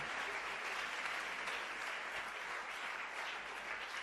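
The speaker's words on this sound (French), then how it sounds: "Acclamez le Seigneur." A congregation claps together in steady, dense applause during a church sermon, a continuous even wash of many hands filling the room.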